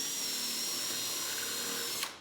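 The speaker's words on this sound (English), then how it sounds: "That should be another tip on drilling into the angled board." A power drill whirs steadily into an angled board for a slide board build, loud and close, then cuts off abruptly near the end.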